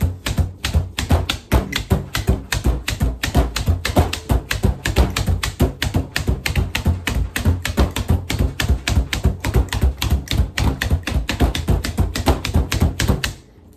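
A 48-blade meat tenderizer pierces a thick cut of meat with rapid, evenly spaced sharp taps, a loud, close, steady rhythm of about three to four strikes per second, with no talking.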